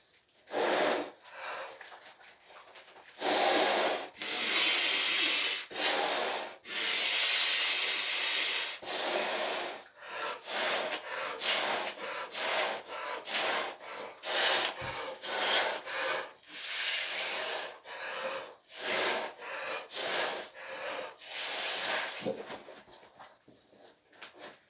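A person blowing hard into a pair of jeans to inflate them, long forceful breaths rushing into the fabric, repeated in bursts with rustling and puffing between, close and loud without speech.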